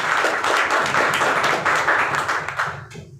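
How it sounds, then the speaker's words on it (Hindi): Audience applause at an indoor gathering fills the clip as dense, continuous clapping that fades out toward the end, with no talking over it. "मैं चाहूँगा एमडी सर के लिए हमारी जोरदार तालियां होना चाहिए।"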